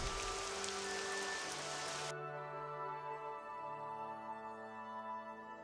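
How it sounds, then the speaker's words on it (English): Steady rain hisses and patters across a landscape in the video game Morrowind, a constant wash of falling drops that carries on evenly and fairly loud, thinning slightly as tonal game ambience rises underneath. "If this rain clears up, assuming it doesn't become a dust storm"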